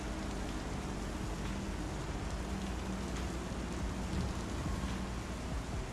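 Steady rain patters across surfaces in the Star Citizen game, an even, continuous hiss with a low wind-like rumble beneath, moderately quiet and unbroken.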